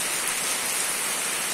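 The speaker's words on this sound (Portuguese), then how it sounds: "principalmente nesse período de chuva, né, chovendo" Steady rain pours down on a school, a dense, even hiss of water falling on surfaces throughout, with no voices over it.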